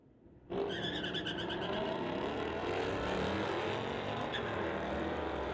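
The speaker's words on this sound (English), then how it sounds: "Challenger versus Mustang coming up next in our street tire class" A Dodge Challenger and a Ford Mustang in a street tire class drag race launch with a sudden loud roar that holds steady and powerful, engines howling together for several seconds.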